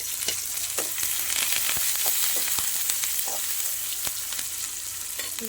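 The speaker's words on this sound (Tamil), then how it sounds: "கருவேப்பிலை வெங்காயம் பச்சை மிளகாய் எல்லாம் போட்டு நல்லா வதக்கிக்கணும்" Curry leaves, onion and green chilli sautéing in hot oil for a milk shark fish curry, a loud continuous crackling sizzle close up, with scattered spoon scrapes and stirs throughout and no speech.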